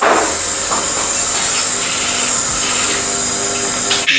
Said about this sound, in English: Meanwhile, you can preheat the oven.